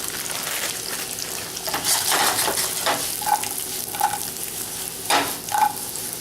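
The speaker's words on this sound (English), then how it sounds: "now we add the mushrooms. These are pre-sliced and pre-washed baby bellas" Pre-sliced, pre-washed baby bella mushrooms hitting a hot pan for an alfredo sauce with crab and shrimp, a steady close sizzle with sharper crackling bursts and light utensil clinks as more slices drop in.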